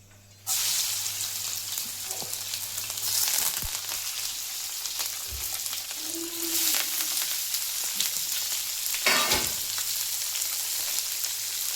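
Spice tempering sizzles in a hot pan for a home-cooked leafy greens saaru, a steady bright frying hiss with brief stirring scrapes and surges, loud and close, with no talking.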